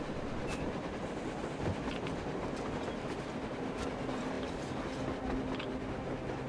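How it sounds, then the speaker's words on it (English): A train in the video game Metro Exodus rumbles past with a steady rolling roar and faint rhythmic clacking of wheels, continuous and fairly close throughout. "A train! A damn train on the surface!"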